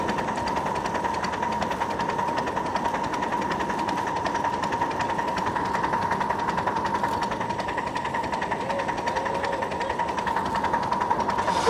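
A miniature live steam locomotive chuffs and rumbles continuously as it gets moving through a yard, a steady mechanical clatter with a faint metallic ring, heard from close on board.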